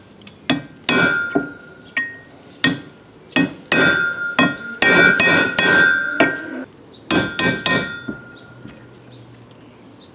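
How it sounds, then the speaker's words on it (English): A hammer strikes a cold chisel against a Ford 9 inch rear axle bearing ring to crack it, giving a series of sharp, ringing metallic clinks in irregular bursts, close and loud with no talk. "Now take a cold chisel,"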